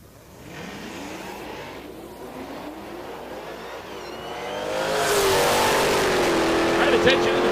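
A 2017 Dodge Hellcat Charger launches at a drag strip during a muscle car race meet. A few quiet seconds give way to a loud, swelling engine roar with rising pitch.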